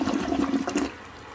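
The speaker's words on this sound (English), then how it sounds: "I'll do one more flush, probably get it down." A 1998 American Standard Colony toilet flushing up close, a loud rushing swirl of water that fades toward a softer trickle near the end.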